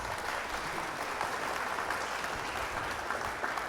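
Dense, steady clapping from a crowd, continuous and fairly loud throughout with no voices standing out.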